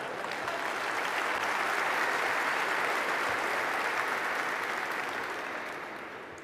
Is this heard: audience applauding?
yes